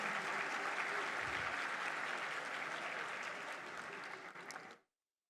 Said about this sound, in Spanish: Se merece Naturgas un fuerte aplauso